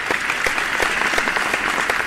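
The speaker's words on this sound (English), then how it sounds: "Please give her a huge round of applause." An audience gives dense, continuous applause at a spelling bee final, with a strong steady clatter of many hands clapping close by throughout.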